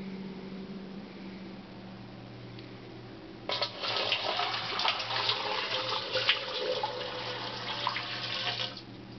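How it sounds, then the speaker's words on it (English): Half a gallon of water pours into a homebrewing vessel, starting after a quiet pause as a steady, splashing gush that runs for several seconds before tapering off. "We're going to first pour in a half gallon of water, which is 8 cups"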